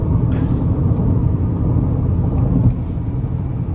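Steady, loud low rumble of a 2026 Chevy Equinox ACTIV FWD with a 1.5-litre turbo four-cylinder pulling under acceleration, heard from inside the cabin with road noise and no talking.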